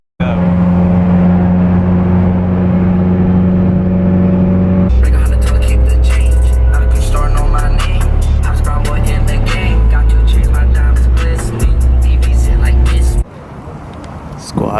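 A struggling Mitsubishi Evo 9 engine runs rough and loud nearby, its idle shifting into harsher, louder uneven revving partway through before it drops off at the end.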